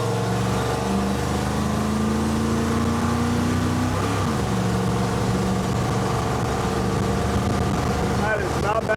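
A car engine with a 650 CFM carburetor roars during a burnout, a loud sustained drone with rising and falling revs throughout, while a voice speaks over it.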